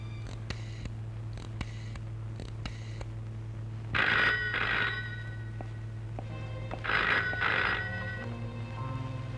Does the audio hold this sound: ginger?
no